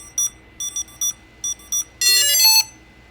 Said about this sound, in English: the drone is doing its alternative beeping like it does when it's doing an update